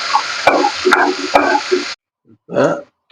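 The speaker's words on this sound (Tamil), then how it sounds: "வெங்காயத்தை ஒரு ஃபிஃப்டி பர்சன்டேஜ் நல்லா வதக்கலாம்" Onions sauté loudly in a pan for tomato rice, a dense close sizzle broken by sharp spatula clacks, then a short pause and another burst of frying.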